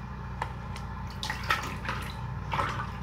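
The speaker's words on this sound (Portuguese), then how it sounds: "Vou lavar logo a xícara." Running tap water splashes steadily while a cup is washed at a kitchen sink, with a few brief clinks and bursts of splashing over the continuous flow.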